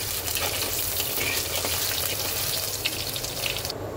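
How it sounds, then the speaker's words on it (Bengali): Boiled potatoes crackle in oil left from frying hilsa fish, a dense, loud and steady sizzle with a wet, bubbling texture throughout. "মাছ ভাজা তেলের মধ্যে দিয়ে দেব আমি সেদ্ধ করা আলুগুলো একটু হালকা ভেজে নেব।"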